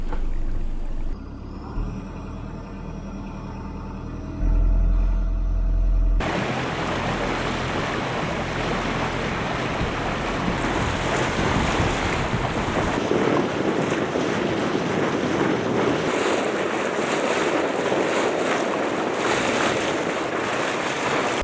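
A yacht approaches a mooring field off southern Lombok, its steady motor hum giving way to loud, continuous wind buffeting the microphone and rushing waves that roar on without pause.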